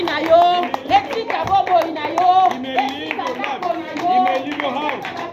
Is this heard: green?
no